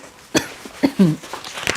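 A few short, dry coughs sound close by, spaced irregularly with quiet gaps between them.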